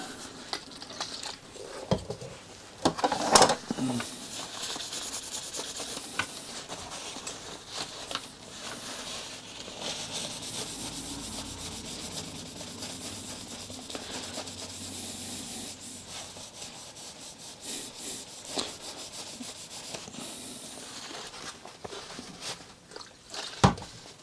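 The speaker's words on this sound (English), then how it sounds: "just run that over the bottom of the warm iron" A cloth soaked in rubbing alcohol rubs back and forth over the bottom of a warm covering iron used for repairing a model plane's covering, a continuous close scraping swish with a few louder knocks and handling bumps.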